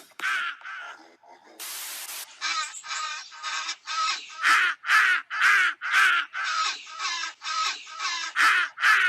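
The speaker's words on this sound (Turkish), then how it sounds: "Karga ses çıkarıyor" A crow caws over and over in a steady series of loud, harsh calls, close by, with a brief burst of static noise near the start.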